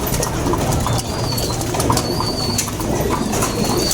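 Racing pigeons in a breeder loft coo and shuffle, with bursts of wing flapping and faint chirps over a busy, close flock murmur.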